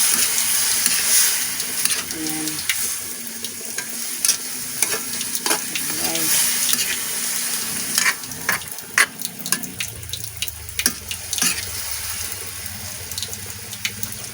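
Water poured into a hot frying pan while cooking squash vegetables sets off a sustained hiss and crackling sizzle, with stirring scrapes throughout and a louder surge of bubbling near the end.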